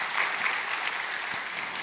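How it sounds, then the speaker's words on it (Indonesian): Church congregation applauding during a sermon, a quiet, distant patter of clapping that carries on evenly for a couple of seconds. "Tepuk tangan yang meriah buat Tuhan Yesus."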